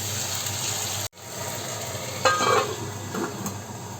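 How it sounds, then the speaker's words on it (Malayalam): A spoon stirs chicken sausage roast curry in a pan over a gentle sizzle, with a few scraping and clinking strokes against the metal after a short break, close and moderately quiet with no talking. "ഇനി സോസേജും ഈ കറിയുമായിട്ട് നന്നായിട്ട് ഒന്ന് ഇളക്കി യോജിപ്പിച്ചതിന് ശേഷം ഒരു മൂന്ന് മിനിറ്റോളം ഇതൊന്ന് അടച്ചു വെച്ച് വേവിക്കാം"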